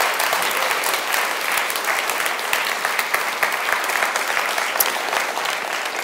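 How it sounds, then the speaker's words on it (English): Dense, steady applause from a large conference audience at a web performance event, sustained and even throughout without pause, with no talk over it. "So if you could join me in applause"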